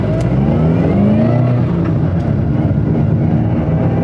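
Steady engine drone and road roar from inside a moving Subaru WRX fitted with a solid rear differential carrier, a constant low rumble with no talking.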